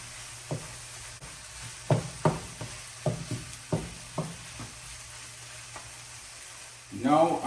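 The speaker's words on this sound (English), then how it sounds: "I'm just gonna mix it stir it in for about a minute." Mushrooms and all-purpose flour sizzle quietly in a pan for beef stroganoff while being stirred, with a soft steady fry and regular spoon knocks and scrapes. A louder stirring clatter comes at the end.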